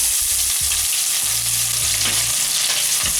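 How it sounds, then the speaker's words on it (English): Chopped onion frying in hot corn oil on high heat, a loud continuous sizzle with occasional stirring scrapes and knocks of the pan, no voices. "The oil is now hot. I'll put 1 chopped onion,"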